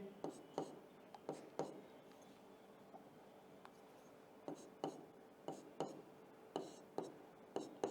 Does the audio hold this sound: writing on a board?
yes